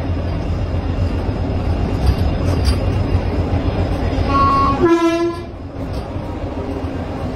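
A loud Vande Bharat express train, New Jalpaiguri to Patna, rumbles steadily close by at platform 2 of New Jalpaiguri station, then sounds a short two-tone horn before the noise drops slightly and continues.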